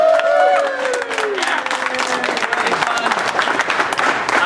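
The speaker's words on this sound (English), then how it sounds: "Big round of applause." A round of applause from players at a Warhammer 40K tabletop tournament, loud clapping with some cheering, while a voice talks over it at the start.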